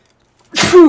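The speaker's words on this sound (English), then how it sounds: "I'm gonna sneeze." A single sharp sneeze bursts out after near silence, close and loud, ending in a brief voiced tail.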